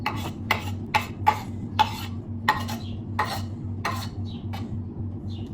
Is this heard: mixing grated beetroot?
yes